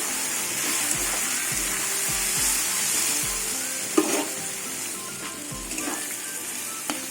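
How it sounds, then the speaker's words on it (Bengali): Potatoes fry in oil for pea ghugni, a steady loud sizzle close up with occasional clinks and scrapes of a spatula stirring, no voices. "আলু ভাজতে ভাজতে আলু সেদ্ধ হয়ে গেছে আর একটু ভাজবো"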